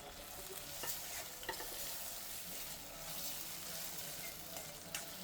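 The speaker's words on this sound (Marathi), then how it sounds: "कांदा थोडासा गोल्डन ब्राऊन होऊ दे." Onion and tomato frying in a pan, a steady close sizzle with a few scraping stirs of a utensil, no voices.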